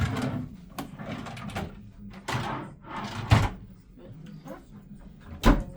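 Drawers in a Carnival Venezia balcony stateroom sliding open and shut several times, each with a soft thud, near and moderately loud, with a person talking between them.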